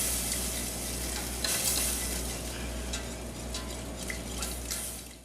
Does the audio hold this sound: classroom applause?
no